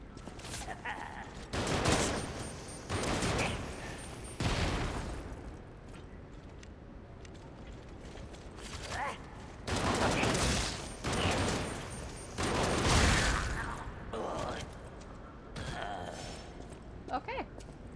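A Gatling gun in the game Lies of P fires in several loud, rattling bursts, each lasting about a second, with short pauses between them and a voice talking at times.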